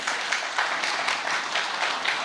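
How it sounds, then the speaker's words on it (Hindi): Audience applause at a Hindu religious discourse honouring guru Aniruddhacharya, a steady patter of many hands clapping at moderate level throughout, with no talk. "पहले एक बार तालियां बजा दीजिए।"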